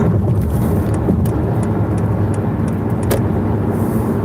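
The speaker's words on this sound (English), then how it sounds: "traffic kind of thick, man." Busy road traffic hums steadily, with cars rolling past at close range in a continuous wash of tyre and engine noise and a few faint clicks.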